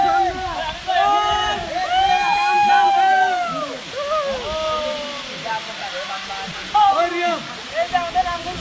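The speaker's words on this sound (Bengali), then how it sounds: "এই যে আমি চলে এলাম সেই নাপিতাচড়া ঝর্ণা।" Steady rushing roar of Napittachhara waterfall fills the background beneath loud, continuous chatter and calls from a group of visiting bikers standing close by.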